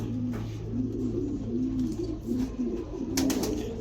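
Several pigeons coo in a steady series of soft, low, rolling calls close by, repeating about every half second over a constant background hum, with no talking.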